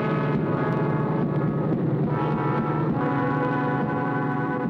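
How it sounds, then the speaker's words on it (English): Cartoon robot planes taking off, heard as a steady loud drone of jet and engine noise that swells slightly in bursts across several seconds, with no voices. "Our robot planes have arrived and are ready to take off and try to penetrate that wall."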